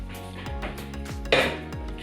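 Metal pot of boiling pasta water shifted onto a kitchen stove: soft clanks and a brighter clink of metal on the burner over a low background hum, no talk.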